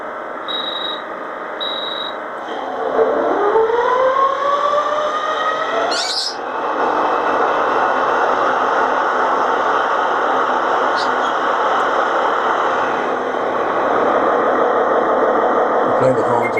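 A model railway locomotive sound decoder starts up, beginning with short beeps, then a rising engine whine settling into a steady loud diesel rumble, with a brief horn-like burst partway through.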